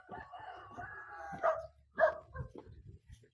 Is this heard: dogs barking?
yes